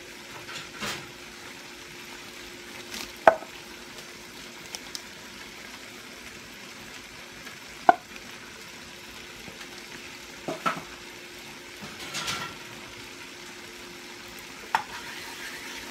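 Sausages frying in a pan for smothered potatoes, stirred with scattered utensil scrapes and clinks over a steady low sizzle, fairly close and quiet.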